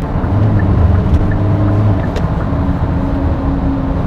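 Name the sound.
Hyundai Santa Fe 2.2 diesel engine accelerating in sport mode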